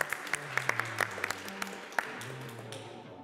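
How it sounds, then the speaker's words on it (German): A few scattered sharp claps ring out close by, a sparse, uneven handful of hand-claps over a low background hum, fading toward the end. "Applaus für dich, Mann."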